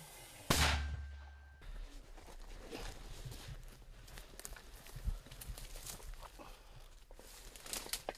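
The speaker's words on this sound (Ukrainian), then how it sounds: "Постріл." A single sharp, loud gunshot bursts out near the start at a frontline firing position in Donetsk region, followed by a long stretch of low rumbling outdoor noise with scattered faint knocks.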